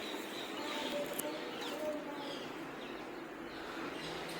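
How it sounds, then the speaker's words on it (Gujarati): Birds call faintly in the Mandav forest near the Bandiya Beli ashram, with sparse soft chirps and coo-like notes over a quiet, steady background hiss. "ત્યાં પશુ પંખી કિલોલ કરે છે."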